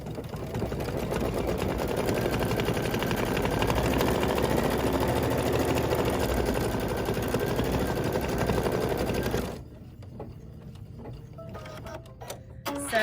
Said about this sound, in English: Now I'm gonna stitch the placement line, and my machine tells me that I'm gonna stitch that heart.